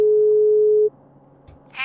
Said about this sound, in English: What's the answering machine got to say?